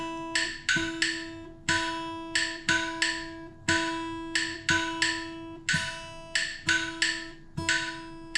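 Acoustic guitar bottom string plucked in two even notes per bar alongside a bright metronome click, steady and close, repeating throughout without any voices.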